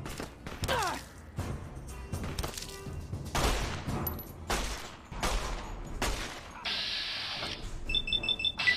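Video game gunfire from Fallout: Tale of Two Wastelands, including a Chinese pistol, sounds as repeated sharp shots and thuds in bursts across several seconds, mixed with game sound effects and brief beeps near the end.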